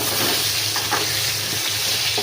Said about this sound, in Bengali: আলুগুলো দেখো আমি ভেজে নেবো।